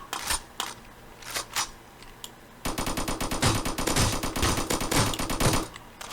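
Rapid bursts of automatic M16 rifle fire in a video game, sparse shots at first, then a dense, sustained volley of sharp cracks from close range.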